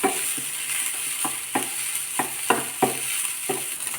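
Food being mixed in a pan, with a quick, regular run of scraping strokes from a spoon over a continuous sizzle, close and fairly loud.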